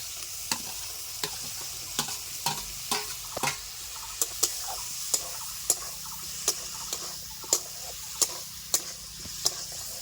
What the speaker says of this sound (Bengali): সবজিগুলিকে আমি ভালো করে কষিয়ে নিয়েছি